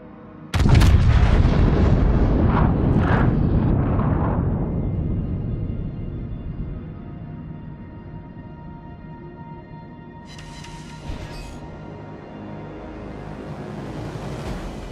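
Battleship main guns fire in a naval video game, a loud booming salvo with sharp blasts and a long rumbling decay, followed by a brief high hiss later on; no talk.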